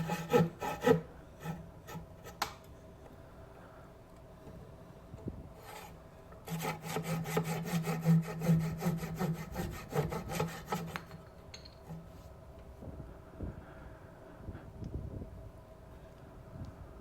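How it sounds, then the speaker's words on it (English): A small handsaw cutting through wood in a closet-to-minibar conversion, heard as rasping rub strokes that build into a steady, fairly close sawing run in the middle, with quieter scraping and handling noises before and after. "finish it up with just a regular old little handsaw"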